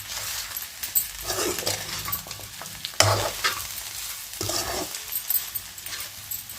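Spicy Andhra-style chicken fry being stirred in a hot pan, with steady sizzling and frying under repeated scraping stirs and occasional clinks of the utensil, close and fairly loud with no talking.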